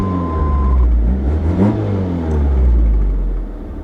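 A Pontiac Sunbird with 104,000 miles starting and settling into a slightly low idle, a deep steady engine rumble close by with a brief rise in revs, no talk over it.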